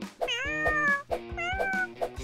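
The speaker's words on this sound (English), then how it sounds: "Playing with the kitty was a lot of fun." A kitten meowing repeatedly in a toy-play video, loud and close, with a rhythmic series of meows roughly every half second alongside a tonal melody.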